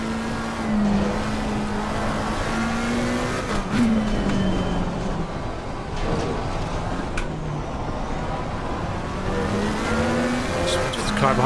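Race car engines in the Assetto Corsa Competizione racing game drone steadily at night, holding a continuous loud pitch that rises and falls through shifts, with a commentator talking over the engine noise throughout.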